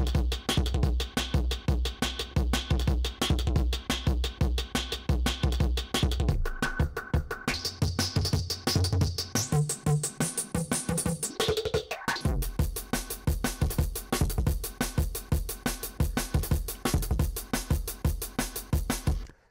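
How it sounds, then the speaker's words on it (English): A distorted drum sequence built during beatmaking plays as a steady, loud, gritty loop of punchy hits with a thick low boom that drops out midway, over a rhythmic pattern running to the end. "Now we've got 2 copies of this drum distortion"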